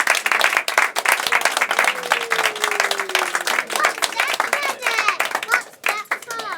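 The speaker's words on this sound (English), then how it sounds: "Could we have a round of applause for all those speakers" A wedding reception crowd claps for the speakers, a quick, sharp round of applause close by, with chatter, laughter and a whistle-like tone mixed in.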